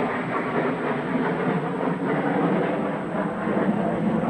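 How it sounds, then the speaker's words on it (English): Navy training jets fly overhead on approach to a regional airport, a steady, loud broadband roar that holds for several seconds without a break. "Navy training jets going into Mobile Regional. A little bit noisy, but I'm used to it."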